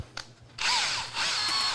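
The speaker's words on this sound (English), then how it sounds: "put it in my drill" A handheld power drill in a woodworking shop whirs up to speed in two close, loud bursts, a high steady whine separated by a short dip.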